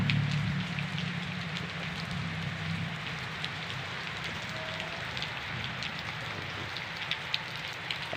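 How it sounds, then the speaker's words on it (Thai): Steady, dense rainfall pours down without a break in Bua Chet district, Surin, Thailand, a broad hissing wash with scattered drops pattering close by, wind rising, and no voices. "สายฝนนะครับวันนี้"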